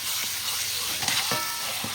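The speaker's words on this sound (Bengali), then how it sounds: "তুমি মাংস ফেলতে থাকো, আমি খুন্তিটা লড়াই।" Mutton pieces dropped into a masala in a pan and stirred with a spatula, giving a steady close sizzle with soft scraping strokes throughout, no voices.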